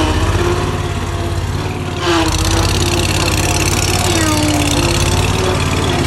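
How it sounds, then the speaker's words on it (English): A lawn mower engine starts cold and settles into a loud, close, steady idle after a brief dip, with no talking over it. "You don't hear a cold start on a mower."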